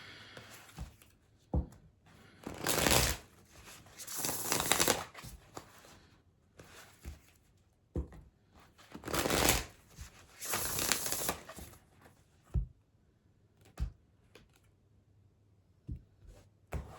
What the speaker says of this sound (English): let's pull an Oracle card for Virgo